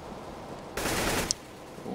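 Rifle gunfire in CS:GO during a professional TSM versus NaVi match on the Cache map: a rapid burst of automatic shots lasting about half a second, fairly loud against a quiet background, followed by a single sharp crack.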